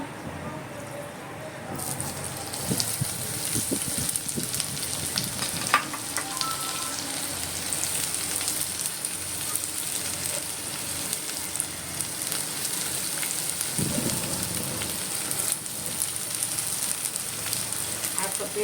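Sliced onion sautés in oil with whole spices such as black pepper, cloves, bay leaf and cinnamon, giving a continuous close crackling sizzle with stirring scrapes. A brief louder burst comes when more onion hits the pan.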